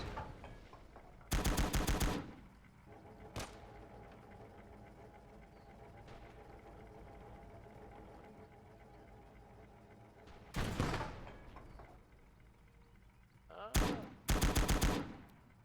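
Gunfire in the war game Call To Arms, several short loud bursts of automatic fire separated by long stretches of low rumbling background, with a few isolated single shots between them.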